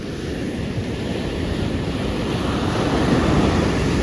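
Ocean surf washing onto a winter beach, a continuous dense roar of breaking waves that swells slightly louder toward the end, mixed with wind buffeting the microphone and no voices.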